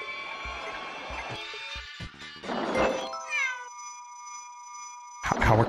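Cartoonish cat meows from the WarioWare Gold video game, with tonal electronic chirps and game jingles around them, bright and clear, with short bursts of noise between the sounds.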